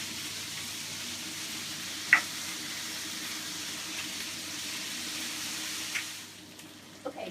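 Green beans frying in oil in a wide paella pan over lowered heat, a steady hissing sizzle with a couple of small stirring knocks, fading near the end.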